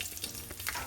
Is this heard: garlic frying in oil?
yes